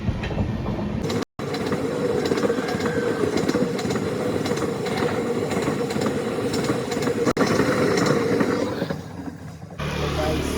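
Inside the Kanchenjunga Express passenger train, a loud steady rumble of the running carriage with faint rhythmic rail clatter continues throughout, briefly cut off once and easing slightly near the end.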